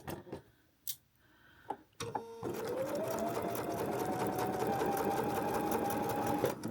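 A sewing machine chain-pieces binding on a fabric bandana head scarf, running in one steady loud whir for several seconds after a few faint clicks and handling sounds.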